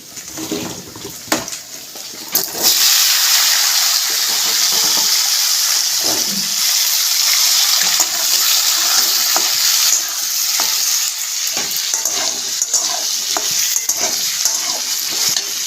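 Potato pieces tipped into hot oil with cumin, chilli and bay leaf, then sizzling loudly and steadily as a spoon stirs and scrapes the pan, after a quieter opening few seconds; no talking.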